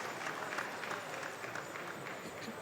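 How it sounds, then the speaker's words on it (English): Audience at an engineering forum applauding a speaker, a fairly faint, steady patter of many hands clapping for a couple of seconds. "A round of applause for him, please."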